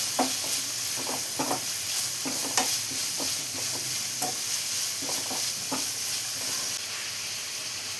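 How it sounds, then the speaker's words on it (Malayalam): Red onions and shallots sauté in a pan for onion puttu, making a constant close sizzling hiss broken by regular scraping and tapping strokes of stirring. "ഇനി ഇതെല്ലാം കൂടി നന്നായി തന്നെ വഴറ്റിയെടുക്കണം"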